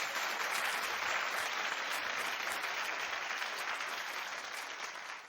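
A television talk show studio audience bursts into sustained, dense applause that stays loud throughout and tapers slightly at the end.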